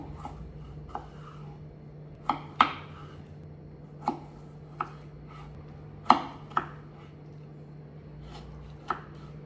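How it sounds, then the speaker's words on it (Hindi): A knife chops vegetables on a board in a home kitchen in India: sparse, irregular sharp chops, a dozen or so, close and alone over a low steady hum. "मुझे ना सब्जियां काटना भी एक थेरेपी जैसा लगता है।"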